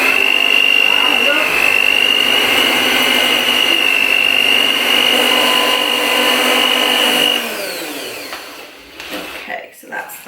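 An electric mixer whirs steadily at high speed, beating butter until fluffy for vanilla cupcake icing, with a loud sustained motor whine that winds down near the end.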